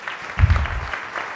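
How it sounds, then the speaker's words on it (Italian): Applause from an audience at a glass art prize ceremony in Venice, a short, fairly quiet burst of clapping that swells briefly and then fades. "she also needs a round of applause"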